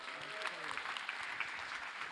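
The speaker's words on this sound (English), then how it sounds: "So please, one more round of applause for them." A crowd at the Prusa Day keynote applauds in a steady, even wash of many clapping hands that sounds faint and distant throughout, with a brief voice near the start.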